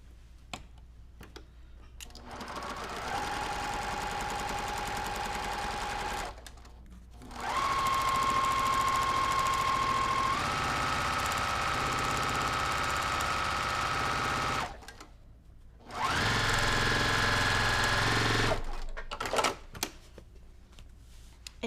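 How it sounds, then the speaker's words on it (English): A sewing machine stitches quilt fabric in fast, even bursts, three long runs of motor whir and needle chatter separated by brief pauses, close and clear with no talking. "So I'm going to sew that real quick."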